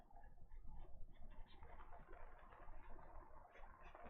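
Pigeons or doves coo and flutter faintly in the background, a soft, continuous murmur of bird sounds with no talking.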